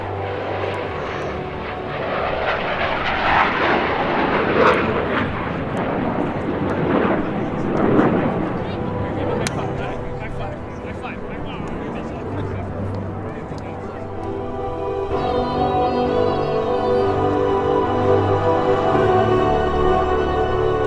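U.S. Navy Blue Angels jets with General Electric F404 engines roar past at an airshow during the double tuck-over roll, a loud, swelling and fading rumble with a public-address announcer talking over it.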